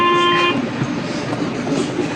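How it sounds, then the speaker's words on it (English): A train at a station in Athens, heard as a steady rumbling roar with a brief tonal horn or whistle at the start, continuous and fairly loud throughout. "Right, guys, I'll show the train."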